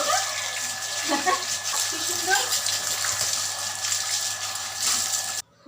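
Tap water runs steadily in a close, continuous gush while Leo the dog is bathed with shampoo, and a voice talks now and then over the flow.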